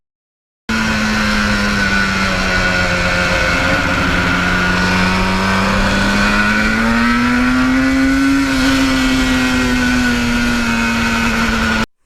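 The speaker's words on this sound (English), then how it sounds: "This bike just loves the back roads." A restored 1977 Yamaha RD400 motorcycle riding on back roads, its engine droning steadily and close with a strong tonal whine that rises gently as it revs, then eases back, continuous for about eleven seconds.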